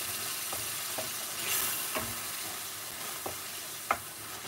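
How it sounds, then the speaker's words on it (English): Pathia curry with base gravy bubbling and sizzling steadily in a pan, broken by a handful of spaced spoon scrapes and stirs, close and moderately loud with no talking. "Stir once and let it cook a bit more."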